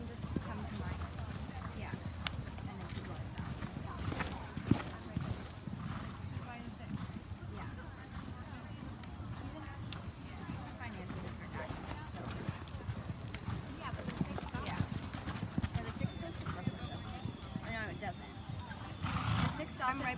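Horse hooves at a canter in a horse show arena during a novice flat class, a steady muffled clip-clop running under constant nearby chatter and an announcer's calls, with people talking throughout.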